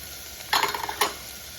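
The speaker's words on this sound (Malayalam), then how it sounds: "അതിൻ്റെ അകത്തോട്ട് വെളുത്തുള്ളി ഇട്ട് കൊടുക്കാം." Chopped ginger and garlic dropped into hot oil in a pan, a quiet background suddenly bursting into a short crackling sizzle with a second sharp flare, then settling back.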